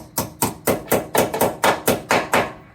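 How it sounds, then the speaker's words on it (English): A hammer strikes metal flaps on the rear of a 2019 Subaru Ascent during a hitch install, about ten sharp, evenly paced blows close by. "they have to be hammer in into this opening"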